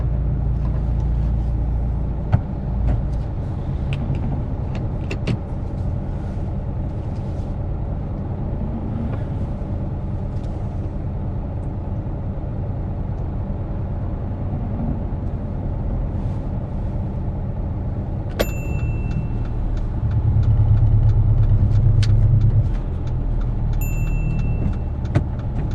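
A car idles and pulls away, a steady low engine rumble filling the whole stretch with a brief rise in low-end power near the end and a few faint clicks and metallic ticks.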